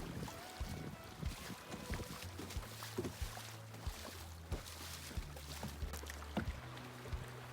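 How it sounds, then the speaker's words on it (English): A kayak runs river rapids in the Arizona desert, with rushing water, wind buffeting the microphone and rhythmic paddle splashes and knocks recurring about every half second to second. "we got some more rapids"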